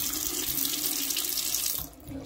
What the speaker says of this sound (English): you know, some newer faucet.